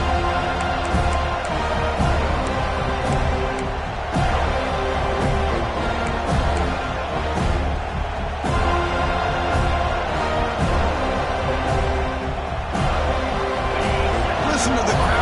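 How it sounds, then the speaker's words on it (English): A dense stadium crowd in a college football video game (College Football 26) roars steadily throughout, a constant wash of cheering and babble with occasional swells, loud and continuous. "Listen to the crowd energy here in the early going."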